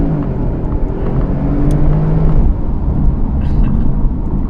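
Porsche 911 Turbo with Cobb Stage 1/2 tune and Tubi Style exhaust driving on a road in Mexico, its engine a steady loud rumble with faint turbo whistle over continuous road noise.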